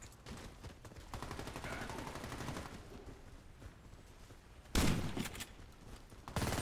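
Gunfire in the online shooter Warface during a blitz match on a villa map: rapid bursts of automatic shots rattle on and off, with a louder close volley near the end.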